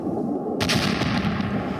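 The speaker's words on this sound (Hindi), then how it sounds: "मैरियोपोल में ये धमाका किया गया" Explosion in Mariupol during the Russia–Ukraine war, a sudden loud blast bursting out of rumbling background noise and rolling on as a sustained roar.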